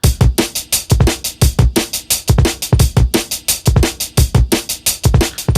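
A drum breakbeat with the envelope shaper switched off loops loudly and steadily, punchy kicks and snares carrying a long, airy room ambience between hits.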